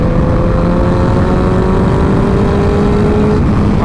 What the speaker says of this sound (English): As soon as I crank into that throttle,